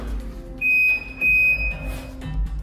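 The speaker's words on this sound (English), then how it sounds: "That's what the beeping is. It's the fridge." A steady electronic refrigerator door alarm beep sounds in two long tones separated by a short gap, over a low hum, with no voices.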